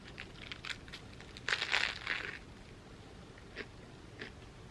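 Someone bites into and chews a crunchy vegan cheeseburger up close, with a louder crackling burst of crunches early on and then softer, scattered chews, with no talking.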